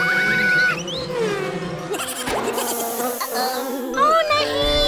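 Cartoonish buzzing of flies in an animated children's cardboard school adventure, warbling and gliding insect drones layered with playful musical tones, loud and continuous throughout.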